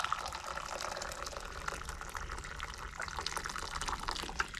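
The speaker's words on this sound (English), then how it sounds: "we are going to soak the lids with hot boiling water" Steady, close splashing and trickling of boiling water poured over jar lids, a continuous bubbly gush with faint drips, no voices.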